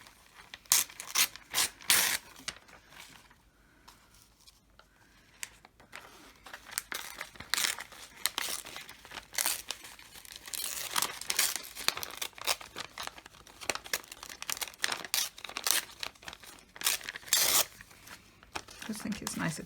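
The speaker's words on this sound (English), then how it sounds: "I might just try and tear those out a bit" Paper grasses torn by hand for an art journal collage, with repeated rips and crinkling rustles in irregular bursts, close and fairly loud throughout.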